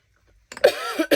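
A woman breaks into a short coughing fit, several harsh close coughs in quick succession after a moment of quiet.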